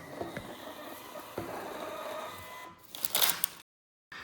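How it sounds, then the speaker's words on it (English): A Dejavoo card terminal's small thermal printer whirs steadily for a few seconds printing a receipt, with a brief louder burst of paper feeding near the end before it stops. "it's going to print out a receipt"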